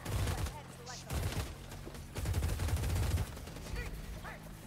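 Minigun with endless bullets firing in a Warhammer video game, rapid bursts of heavy gunfire in several stretches separated by brief pauses, loud and close.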